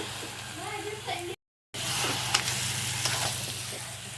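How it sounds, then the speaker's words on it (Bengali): Mutton frying in ghee with spices while being stirred, a steady loud sizzle and hiss close to the pan, briefly cut out, with a voice speaking over the start. "এবার মাংসটা দিয়ে ভালো করে নাড়বো মাংসটাকে ভালো করে কষিয়ে নিতে হবে"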